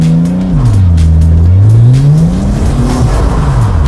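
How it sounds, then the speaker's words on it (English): A drift car's engine drones loudly, drops in pitch as it strains and bogs down after a clutch drop with too little throttle, then climbs and wavers again, close and continuous. "give it some revs, drop the clutch, see how we go"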